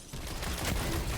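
Gunfire in Destiny, a continuous sustained barrage of shots with no gaps, fairly loud and busy throughout and with no voice over it.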